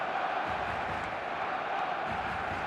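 Dense stadium crowd noise from the eFootball mobile football game, a steady roar of cheering and chanting that stays loud and even throughout with no clear breaks.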